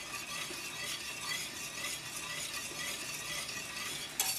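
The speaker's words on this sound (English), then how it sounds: "you lower it down as low as you can go and just let it simmer there for about 10 minutes" Thick cream sauce simmering on low heat in a pan, giving a steady soft bubbling sizzle throughout with one brief clink near the end, no voices.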